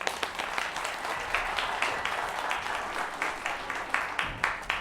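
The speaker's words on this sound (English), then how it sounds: "Give them another round of applause." An audience at a band telethon fundraiser claps in a lively round, dense overlapping hand claps with a few sharper, louder hits standing out, steady throughout.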